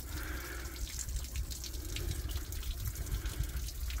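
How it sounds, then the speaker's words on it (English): Water runs steadily from a broken drain pipe, a continuous close splashing and trickling flow with low rumble and no speech. "Inside, obviously, water running in there."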